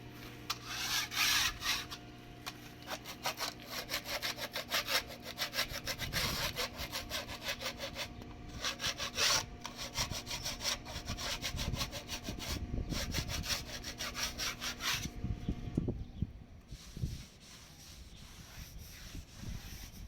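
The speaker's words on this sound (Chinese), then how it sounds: "再用清水把它清洗一次过，再用刮刀稍微刮一下" A hand scraper rasps dried, hardened cement off wall tiles in quick repeated strokes, a steady scratchy scraping close up that thins out near the end, with no talking.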